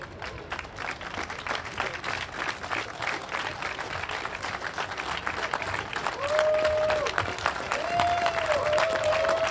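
Crowd applause at a rescue demonstration at the Interschutz trade fair, steady individual claps that swell louder toward the end, with a few whistles near the close.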